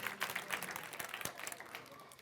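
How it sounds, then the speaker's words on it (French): Faint audience applause rises at an improv comedy match show, scattered claps with a few sharper hand strikes, heard from a distance with a voice partly mixed in. "On peut leur donner une bonne main d'applaudissement."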